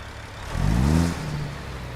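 A truck engine in American Truck Simulator revs up briefly, the pitch rising and holding before settling back to a steady idle hum.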